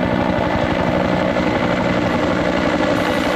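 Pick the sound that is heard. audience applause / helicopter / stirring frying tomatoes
helicopter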